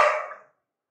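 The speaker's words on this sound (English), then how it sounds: "that was my dog" A single short bark from a pet dog indoors, a sharp burst that fades away within half a second into silence.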